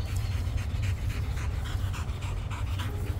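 A pit bull pants hard and fast during aerobic conditioning training, a close, rhythmic, continuous run of quick breaths with no talk over it.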